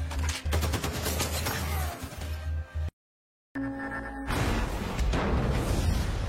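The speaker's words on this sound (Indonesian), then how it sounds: "mobil mereka malah diserang oleh anak buah Myung-jun yang membuat agen FBI dan anak buah dari Myung-jun ini terlihat baku tembak" Heavy gunfire in a film shootout between FBI agents and gang members attacking their car: dense, loud volleys of shots that cut to silence for a moment, then resume just as fiercely.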